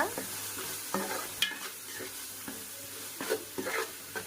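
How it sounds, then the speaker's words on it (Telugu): Ginger garlic paste frying in a pan for a small-fish curry: a soft sizzle with repeated spatula scrapes and taps against the pan at an uneven rhythm, close by and moderately quiet. "అల్లం వెల్లుల్లి పేస్ట్ పచ్చివాసన పోయేంత వరకు వేపుకోవాలి."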